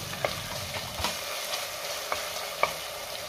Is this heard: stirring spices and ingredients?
yes